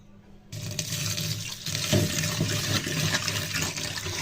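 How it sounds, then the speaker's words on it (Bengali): Red lentils rinsed under running water in a kitchen, a sudden onset of steady splashing and pouring that continues close and fairly loud, without speech. "ডালগুলো প্রথমে ভালো করে ধুয়ে নেব।"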